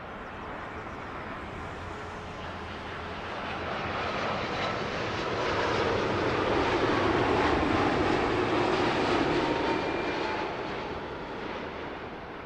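An American Airlines airliner lands on runway 09 left at Heathrow, its jet roar swelling gradually to a loud peak midway as it passes, then slowly fading, with no talk.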